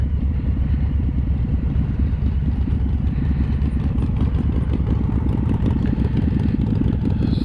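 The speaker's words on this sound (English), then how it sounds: "She's got that slash cut exhaust." A Harley-Davidson FXLRS motorcycle with a slash-cut exhaust idling close by, a loud, steady, rapid low-pitched burble with a rough, uneven rhythm throughout.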